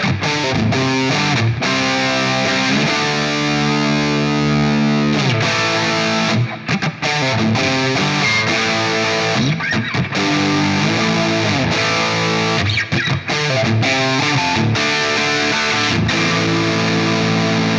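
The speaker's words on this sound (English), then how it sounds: "here is some distorted tones on the bridge pickup" Heavily distorted electric guitar on the bridge pickup through a Line 6 Helix, playing sustained chords and riffs, loud and saturated with a processed amp tone, no voices.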